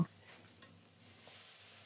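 Tengra fish frying in a pan as the pieces are flipped, a soft steady sizzle with a faint clatter at the start, low and close with no talking.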